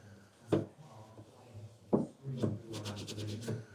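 Rubbing and wiping behind the reverse light housing of a BMW F30, a few sharp scuffs followed by quicker repeated strokes, close and fairly quiet.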